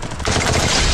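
Automatic gunfire from the Free Fire battle royale game erupts after a brief quieter start, a loud dense burst of rapid shots filling the rest of the moment.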